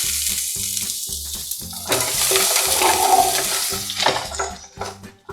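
Minced ginger, fennel seeds and lentils frying in hot oil in a pan for poori masala, a steady close sizzle that swells loudly midway and then eases off, with no voices.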